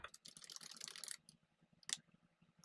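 Rapid keystrokes clatter on a computer keyboard at close range during a Photoshop text-entry task. A dense burst comes first, then a pause, then a single sharp tap and a few lighter clicks, with no talking.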